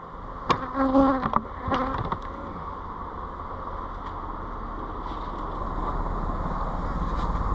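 Honey bees buzz steadily as they are shaken down from hive frames to make nucs, with a few sharp knocks early on and then a dense, continuous swarm drone close by.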